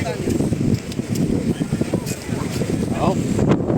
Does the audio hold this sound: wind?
yes